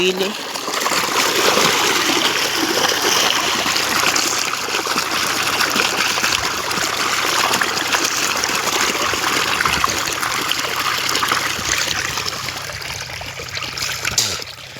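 Water flows steadily through an irrigation channel in a field, a continuous rushing, trickling wash that stays close and fairly loud from start to finish.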